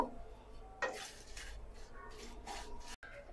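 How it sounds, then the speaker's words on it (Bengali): Dry chillies, cinnamon and bay leaf frying on medium-low heat in a wok for homemade chaat masala; faint stirring scrapes and soft clinks of a utensil against the pan, with a few brief louder knocks. "প্রথমে দিয়ে দিচ্ছি শুকনো মরিচ আর দিয়ে দিলাম দারুচিনি আর তেজপাতাটা কিছুক্ষণ একটু ভেজে নেব"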